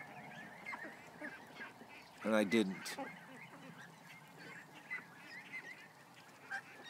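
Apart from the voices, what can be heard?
baby geese honking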